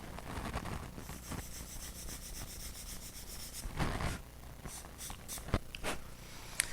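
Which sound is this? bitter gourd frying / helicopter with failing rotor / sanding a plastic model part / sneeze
sanding a plastic model part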